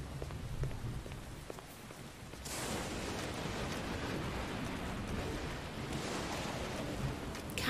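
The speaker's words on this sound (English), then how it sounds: "What kind of rain is this?" Heavy rain in the video game No One Lives Under The Lighthouse, a steady hiss of drops on surfaces that swells louder partway through and keeps pouring continuously.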